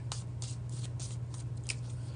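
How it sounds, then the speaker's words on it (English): Cards are shuffled in quick repeated riffles, a series of crisp fluttering bursts close up over a steady low electrical hum. "I'm going to go ahead and start shuffling the second deck"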